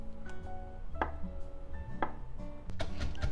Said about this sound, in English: we start off with cutting tofu into small pieces